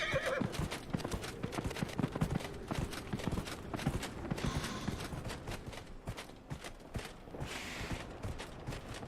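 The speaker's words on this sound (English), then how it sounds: "Another one of these horse jump situations." Horse galloping in the video game Dragon Age Inquisition, with steady rapid hoof clip-clops and a whinny over busy game ambience, loud and close throughout.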